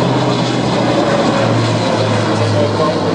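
Airbus A400M Grizzly military transport aircraft at the Farnborough Air Show, its turboprop engines droning loud and steady as it flies overhead, with a constant low hum and broad roar throughout.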